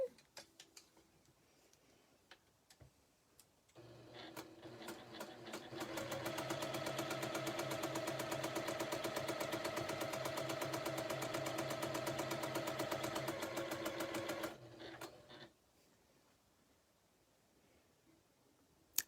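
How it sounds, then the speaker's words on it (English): A sewing machine stitches along a quilt seam in a rapid, steady mechanical rattle, starting after a few quiet seconds and running for about ten seconds before slowing and stopping; close and fairly prominent, with faint background sounds around it. "I've just sewn down one side of the line, and now I am going to do the other side"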